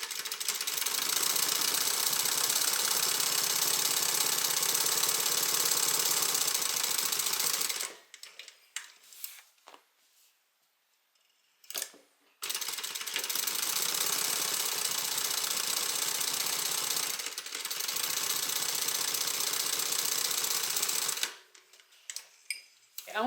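A sewing machine runs steady stitches along the side seams of a handmade bag at a half-inch seam allowance, a close continuous whir in two long runs broken by a short pause with light handling noises.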